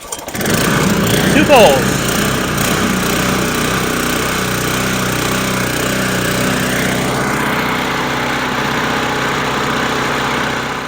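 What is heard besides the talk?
Toro GM1000 reel mower engine starting and running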